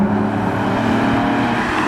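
Car fitted with its original exhaust silencer, giving a deep GTR-like engine note: a steady, loud, close rumble with rich low harmonics, sustained without pause.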